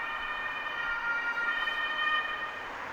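An ambulance siren sounds on a street in Belgrade, Serbia, a steady high wailing tone held at moderate distance with light traffic rumble beneath it.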